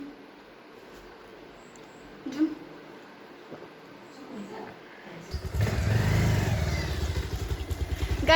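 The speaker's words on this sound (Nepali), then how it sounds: "रोहन र बाबा चाहिँ बाइकमा हुन्छ, म र किसी स्कुटीमा हुन्छ।" A motorbike engine starts and runs loudly and close for the last few seconds of a morning ride, after a quieter stretch with faint voices and background noise.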